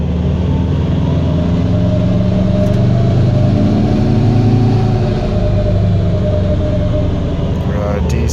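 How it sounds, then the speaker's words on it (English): A freshly built engine runs on a dyno during break-in, revving up and down under light load with a little boost. It makes a loud, steady, close-up roar and rumble with gentle swells in pitch, and no voices are heard. "seating the rings in, we're going to go up and down in the RPM with a little bit of load"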